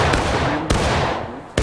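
Musket volley in the Civil War game War of Rights, loud booming shots fired in a ragged burst with three sharp cracks spread across the moment, each followed by a rolling echoing tail over continuous battlefield noise.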